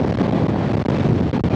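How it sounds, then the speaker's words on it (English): Strong wind high in the Himalayas buffets the microphone in a steady, loud, rumbling roar that barely lets up, with no voices. "The wind is too strong, guys."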